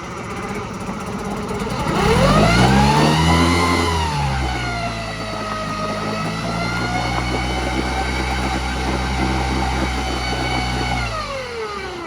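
A Mercury 9.9hp outboard motor with a faulty impeller revs up hard near the start, its pitch climbing then settling into a loud, steady high idle with a rich harmonic drone, running close by with no talking.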